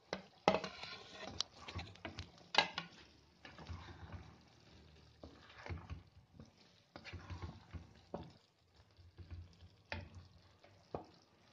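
Fried paneer cubes going into a simmering pea and potato curry for matar paneer, with soft sizzling, bubbling and spoon stirring in irregular bursts, close and moderately loud, with brief background speech.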